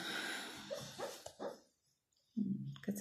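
A female dog, dreaming in her sleep, gives soft, muffled whimpers and small yips in short bursts, close by and fairly quiet, with a brief silent pause between them.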